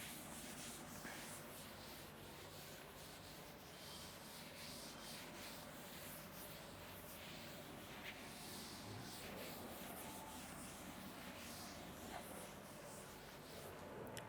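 A board eraser steadily rubs chalk or marker writing off a classroom board, a continuous dry scraping sound that runs unbroken and fairly close for the whole stretch, with no talking over it.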